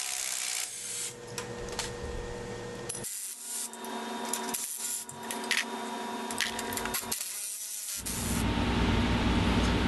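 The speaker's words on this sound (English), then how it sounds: "we're going to take the complete leaf spring out, starting with the rear bolt nut, the U-bolts, and then we're going to drop the front" Rear leaf spring being removed from an EZGO TXT golf cart with tools during a long-travel lift kit install, heard as loud grinding, scraping and rasping mechanical noise with abrupt starts and stops, close up.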